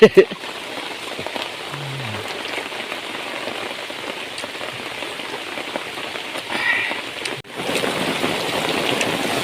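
Rain falls in the forest during a camping trip, a steady patter on surfaces that builds heavier toward the end, with a few knocks and handling sounds early on.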